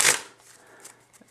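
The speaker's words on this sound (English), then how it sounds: "Do an overhand shuffle, riffle shuffle," A deck of playing cards being shuffled, one quick crisp riffling burst at the start, followed by faint soft handling sounds.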